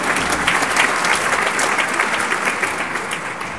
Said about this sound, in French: Boris, vous pouvez applaudir aussi